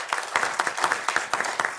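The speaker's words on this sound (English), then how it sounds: "I think we should start by giving our wonderful dancers a great round of applause." Applause for a group of dancers at a county board of commissioners meeting, sounding as a brief round of fairly close clapping from a small gathering, the claps bunched into uneven bursts.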